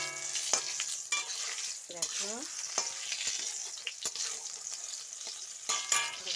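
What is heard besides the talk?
pointed gourd (potol) frying in a pan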